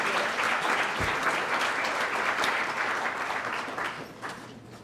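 A large audience at a Meadville Dr. Martin Luther King, Jr. scholarship reception claps for a scholarship recipient in steady, dense applause that holds throughout and thins slightly toward the end.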